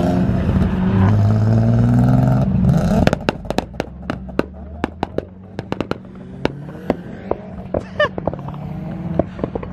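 An Audi B5 S4 with one turbo's wastegate flap missing accelerates hard, engine revving up loudly before a rapid string of sharp pops and crackles from the exhaust, close and loud, with no talking.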